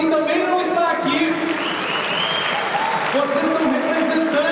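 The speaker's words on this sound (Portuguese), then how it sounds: "Uma salva de palmas a quem também não está aqui" A large delegate assembly at a national culture forum gives a round of applause, steady crowd clapping with some voices and scattered cheers, sustained throughout.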